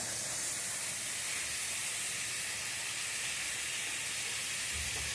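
Tomatoes sizzle as they sauté in a pan, giving a steady, dense hiss that holds evenly throughout with no breaks.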